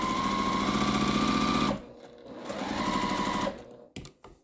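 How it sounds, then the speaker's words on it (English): A sewing machine stitches quilt fabric in a fast steady whir, stops briefly, runs again, then falls quiet with a few small clicks and thumps as the piece is handled. "flip your piece and continue stitching"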